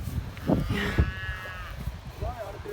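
Cows moo on a farm while weaned calves are sorted, several close bellowing calls with a brief overlapping low voice.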